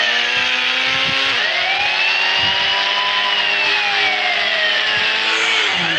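Police car engine in the Indian Bikes Driving 3D video game, a loud, steady synthetic engine drone whose pitch dips and slowly rises and falls as the car drives, with no talk.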